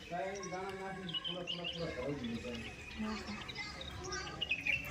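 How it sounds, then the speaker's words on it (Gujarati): Small birds chirp and tweet faintly where pigeons have come to feed in a village during light rain, thin scattered calls in the background. "પક્ષી કબૂતર ચરવા માટે આવેલા જો"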